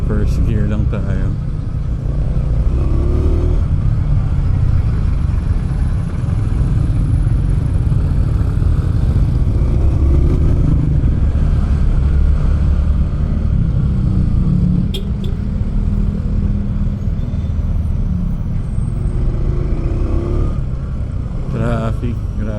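A Bristol Cub Pro motorcycle rides in first gear through traffic, its engine a steady low rumble with wind noise throughout, while someone talks over it.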